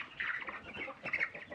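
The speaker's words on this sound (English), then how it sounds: "down here are the Chantecler chicks and the neighbor's Australorps" Chantecler and Australorp chicks, one larger bird under a heat lamp, chirp in a steady overlapping chorus of high peeps at close range, with no talking.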